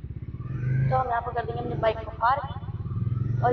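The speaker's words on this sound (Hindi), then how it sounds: "तो हम यहाँ पर कर देंगे अपनी बाइक को पार्क, और यहाँ से जाएंगे सीधे अंदर पूरे सरोजनी।" Motorbike engine putting along at low idle close by as it rolls into parking, a steady rhythmic low throb beneath someone talking.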